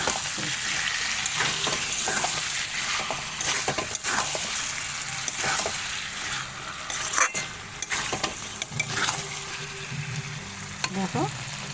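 Food frying and being stirred with tomato ketchup in a pan, a steady close sizzle with scraping stirs and small clinks throughout, no talking.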